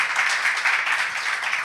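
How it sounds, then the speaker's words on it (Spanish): Brief burst of dense audience clapping in a church gathering, steady and fairly loud, with no voices over it. "Para ellos también un aplauso cariñoso desde Flor Amarillo."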